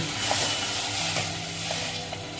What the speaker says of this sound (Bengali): এবারে বাটা মশলাটাকে দিয়ে বাটা মশলাটাকে ভেজে নিব।